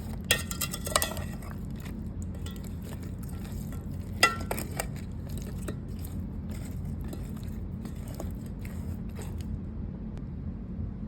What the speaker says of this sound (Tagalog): Haluin ng mabuti hanggang sa ma-well combined ang lahat ng sangkap.